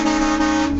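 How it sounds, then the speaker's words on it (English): A train horn fitted to a pickup truck gives one loud, sustained, steady blast that lasts the whole moment and has no voices over it. "Mine came with a train horn."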